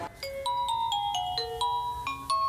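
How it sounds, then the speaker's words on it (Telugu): A mobile phone ringtone plays a bright electronic melody of short, evenly spaced notes that repeat in a quick rhythm, with no talk over it. "It's ringing."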